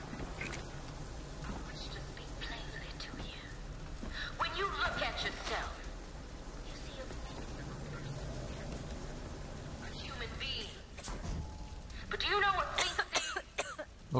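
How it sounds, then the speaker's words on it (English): A woman's coughing and throat clearing in Bioshock Infinite, heard amid game ambience, music and effects, with repeated coughs over a busy, steady background. "Oh, she's coughing."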